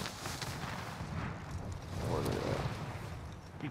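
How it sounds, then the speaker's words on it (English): Gunfire in Call of Duty: Modern Warfare, heavy rumbling booms and blasts filling the mix continuously, with players' voices talking over the action. "He's shooting me in the air?"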